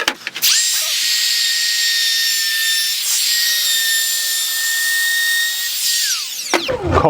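A router cuts a stopped roundover along the edge of a wooden mantel shelf, a loud, steady high whine for about six seconds that spins up at the start and winds down at the end.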